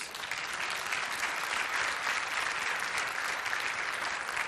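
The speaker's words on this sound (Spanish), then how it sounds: "Dar un aplauso bien fuerte a Jesús" Church congregation breaks into sustained applause, a dense wash of many hands clapping at once, steady and full from start to finish with no voices standing out.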